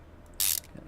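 A ratchet in Car Mechanic Simulator 2015 refits the oil pan bolts: one loud, short, hissy mechanical burst, alone over quiet background.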